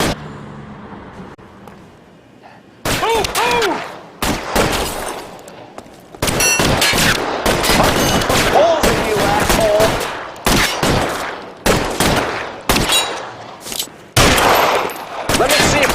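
A police shootout in the LA Noire video game: repeated sharp gunshots and rapid bursts of fire, some with metallic clangs, in dense clusters broken by short quiet gaps, with brief voices between.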